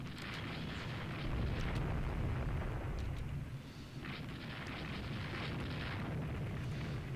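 Shell hits landing on the Japanese warship Izumo during a naval battle in the game Rule the Waves 2, a dense, continuous rumble of heavy booms and blasts, broad and sustained with a brief dip midway.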